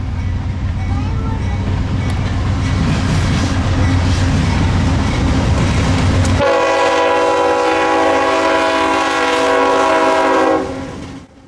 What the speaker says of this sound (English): But the trains from the north and east kept coming.